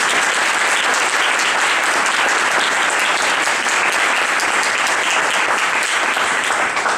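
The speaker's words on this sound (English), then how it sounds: "let's have a round of applause for" Audience applause at a graduate awards event, many hands clapping in a loud, even, continuous roar with no talk over it.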